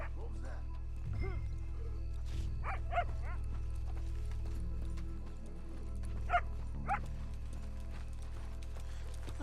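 A dog barks in a video game set in Saint Denis, with a few sharp yips over a steady low rumble and horse hooves clip-clopping nearby, while characters talk.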